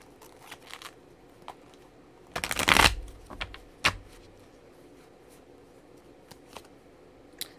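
Tarot cards being shuffled close by: a quick, dense riffle burst in the middle, surrounded by scattered soft card taps and flicks in a quiet room.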